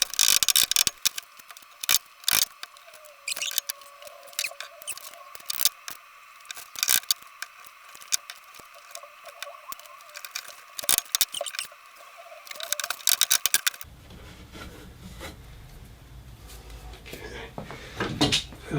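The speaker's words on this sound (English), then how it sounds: "get a clamp on the middle" Clamp tightened on redwood and birch ply trestle table parts, with sharp repeated ratcheting clicks and knocks close by, then quieter rustling handling near the end.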